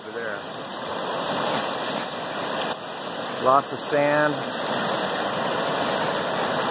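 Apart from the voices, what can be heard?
creek water flowing high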